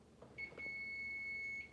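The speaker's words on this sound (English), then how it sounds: "Kitchen timer's off." A kitchen timer gives a single long, steady electronic beep, faint against quiet room noise in a home kitchen where cinnamon rolls are baking.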